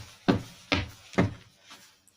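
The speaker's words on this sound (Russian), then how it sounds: "Это мы топаем так." Three heavy thuds of people stamping their feet on a floor, roughly half a second apart and loud and close, followed by a fainter fourth stamp and then quiet.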